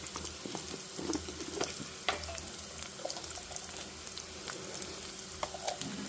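Onions and spices fry in a pan for a palak paneer curry, a soft continuous sizzle with scattered spatula scrapes and stirring clicks, fairly quiet and steady with no voices.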